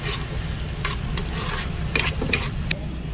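Ginger fries in a pan with a steady sizzle, close by, while a utensil stirs it with a few sharp scraping clinks against the pan.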